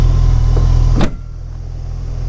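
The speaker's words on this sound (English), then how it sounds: "Lower the hood the old BMW style." The hood of a 1991 BMW E30 325i Touring wagon is dropped shut, a single sharp thump about a second in that cuts off the steady idle-like hum, leaving a quieter low drone afterward.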